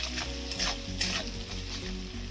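Chili powder being stirred into a mustard spice paste in a pan while cooking a rui fish curry, with a steady frying sizzle and scraping stir strokes, close and continuous.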